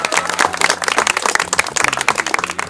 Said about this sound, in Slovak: Takže obrovský potlesk pre nich.